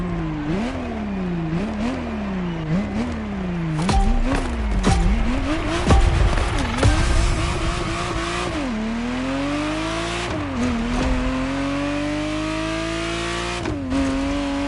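A Ferrari Testarossa from The Crew Motorfest revs hard through repeated gear changes, its engine note climbing and dropping in a sawtooth pattern, with tire squeals and skids mixed in.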